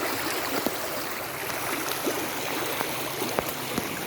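Fast floodwater after heavy rain rushes under small village bridges in Punjab, a loud steady broadband roar of flowing water with occasional faint clicks and knocks.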